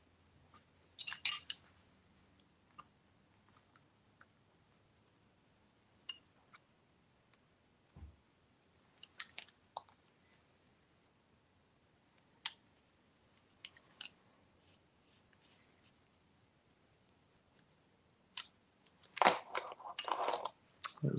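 Small screws driven into a Yokomo MD2.0 RC car chassis, heard as faint, scattered ticks and clicks of a hand driver and parts over quiet room tone, with a busier clatter near the end.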